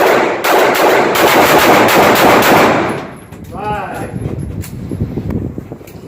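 Rapid handgun shots at a shooting range during concealed-carry training, loud and close for about three seconds in a dense volley, then fading into quieter range ambience with a voice nearby.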